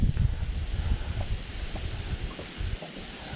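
Wind gusting over open water while bass fishing from a boat, a rough, buffeting rumble on the microphone with a faint rustle of surf, steady and fairly loud with no voices.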